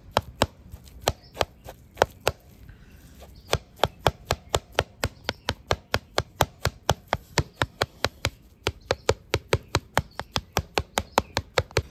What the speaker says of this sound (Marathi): आम्ही कलत्याच्या साहाय्यानेच बारीक करून घेतो